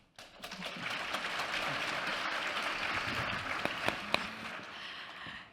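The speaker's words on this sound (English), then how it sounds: "Let's give her a big round of applause." An audience applauds a conference panel on crisis response, a steady wash of many hands clapping that rises quickly and holds at moderate loudness before fading at the end, with a few louder claps standing out.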